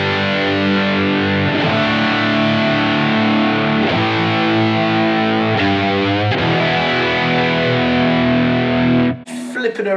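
A distorted electric guitar, a Stratocaster through a modeling amp with flat EQ and a touch of horn reverb, plays sustained chords, loud and continuous, ending abruptly with a brief click.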